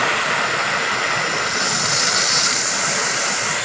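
A torch burning without oxygen heats an early Ford front straight axle from 1939–1948, making a loud, steady roaring hiss that holds for a few seconds.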